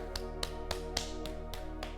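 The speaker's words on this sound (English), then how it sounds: "And now gentle patting." Soft, steady patting of hands on the body during a self-massage exercise, about eight gentle taps in an even rhythm, close and quiet over a low background hum.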